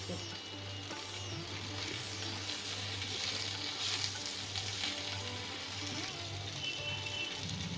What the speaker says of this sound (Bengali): কুমড়োটা ভাজা হয়ে গেছে মোটামুটি লাল হয়ে গেছে এখন তো কড়াইশুটি দিয়ে দিচ্ছি